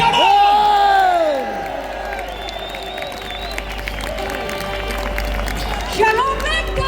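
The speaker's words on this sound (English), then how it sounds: "Give a big round of applause, come on!" Rally crowd in London cheering, whooping and applauding loudly at first, the noise then easing into a softer, steady hum of clapping and voices with some scattered shouts.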